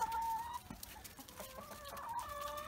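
Hens cluck in a chicken coop on a cold winter day, with several soft, intermittent clucks and a few drawn-out calls heard faintly at a distance, no talking.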